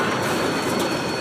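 A train rumbles past close and loud for a moment, a dense steady roar of rolling wheels and rail noise with no voices.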